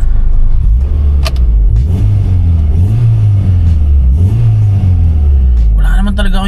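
A 1999 Honda Civic SiR VTEC engine revs loudly and close, its pitch rising and falling in repeated swells, with someone talking over it.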